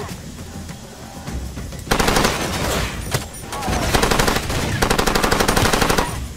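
Automatic gunfire from the shooter game Far Cry 2 comes in rapid, loud rattling bursts, one around the middle and a longer sustained burst near the end, over quieter in-game ambience.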